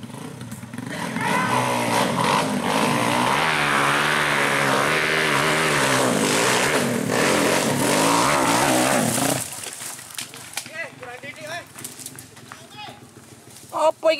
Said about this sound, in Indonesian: Peserta kedua, menggunakan motor Karisma.